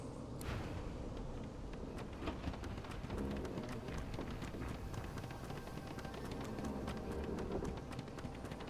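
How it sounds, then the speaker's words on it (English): A video game storm pours steady, heavy rain onto surfaces, with rolling thunder rumbling underneath and a sharp crack early on, dense and continuous throughout. "Safe from the storm, I hope."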